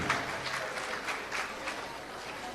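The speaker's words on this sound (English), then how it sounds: "Please, one more round of applause for Cornelius Hunkin." A crowd claps steadily at a male pageant, a dense patter of hands continuing throughout with a few louder swells.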